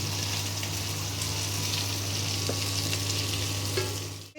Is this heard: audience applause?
no